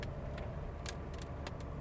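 A Honda City RS e:HEV hybrid hatchback drives in light rain, giving a steady, even road and cabin rumble broken by a few faint clicks.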